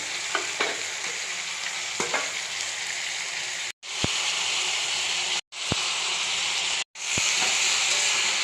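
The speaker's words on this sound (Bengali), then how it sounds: "এবার লাল লাল করে পেঁয়াজটাকে ভাজবো" Onions frying with salt and turmeric in a pan of oil, giving a steady close sizzle with stirring scrapes, cut by three brief drops to near silence.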